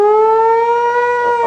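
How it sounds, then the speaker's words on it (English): A big U.S. Army siren mounted on a fire truck wails loudly and steadily, holding one rising, sustained tone up close with no voices. "A big U.S. Army siren."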